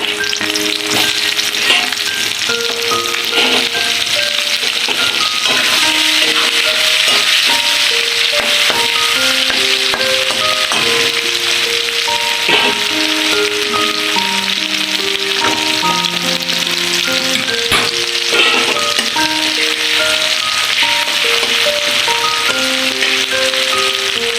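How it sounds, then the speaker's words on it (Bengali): Onion fries in oil left over from frying potatoes, a steady, close, crackling sizzle that continues throughout with soft melodic music underneath. "আলু ভাজার তেলের মধ্যে দিয়ে দিলাম পেঁয়াজটা"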